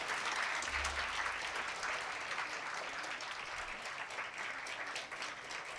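Students standing at an award ceremony clap together in a dense, loud burst of applause that runs steadily for several seconds without letting up.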